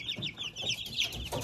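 A two-week-old Livenskaya chintz cockerel mingles with a brood of chicks at fresh feed, the flock keeping up continuous overlapping high peeps and chirps, close by and with no talking.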